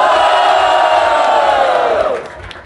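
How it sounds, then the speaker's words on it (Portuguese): Crowd at a Brazilian rap battle final erupting in a loud, sustained roar of cheers and shouts, holding steady for about two seconds before quickly fading. "Barulho, quem gostou das rimas de Salvador?"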